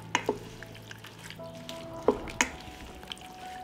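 Green beans and tomato fry in a pan with a soft, steady sizzle, broken by a few sharp clacks and scrapes as a spoon stirs them, close and fairly quiet.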